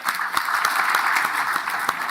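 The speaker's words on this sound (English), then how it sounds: "Another round of applause" Applause at a conference session of the Africa Agriculture Science Week and FARA General Assembly, a sustained crowd clapping with a few distinct sharp claps standing out nearby, loud and even throughout, no speech.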